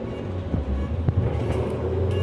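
Cars roll past in steady street traffic in Fort Worth, Texas, a continuous low engine and tire rumble close by with a few brief louder swells as vehicles go by.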